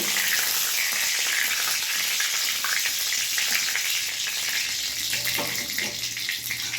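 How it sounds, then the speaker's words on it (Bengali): Bay leaf and cracked cardamom frying in hot oil for a crab malaikari, a steady bright sizzle close to the pan with a few soft stirring knocks, no talk. "এবার ফোড়ন ভেজে নেব।"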